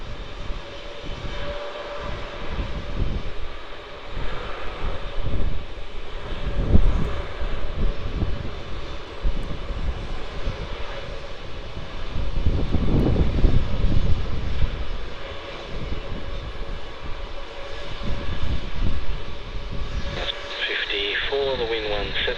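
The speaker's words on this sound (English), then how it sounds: "it looks like we have another takeoff to the Gold Coast" Virgin flight VA739, an airliner bound for the Gold Coast, takes off from Melbourne Airport with a sustained jet engine roar that swells and fades, mixed with air traffic control radio chatter and a person talking.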